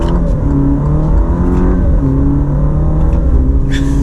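A 2021 Alfa Romeo Stelvio Sprint accelerates hard, heard from inside the cabin: a loud, continuous engine drone climbs in pitch through the gears, with a brief dip at a gear shift.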